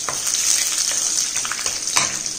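Cashews frying in oil for Tamil aval kara pori, a steady close hiss of bubbling oil with brief stirring scrapes rising out of it.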